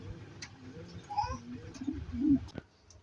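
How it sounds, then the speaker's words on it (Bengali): An Iranian pigeon, a large single male of the Barhuma type, gives soft, low coos in a short rolling phrase, close by and fairly faint, with slight background rustling. "এখানে দেখতে পাচ্ছেন একটা ইরানি বারহুমা, বিগ সাইজের ভিতরে এক পিস সিঙ্গেল নর আছে"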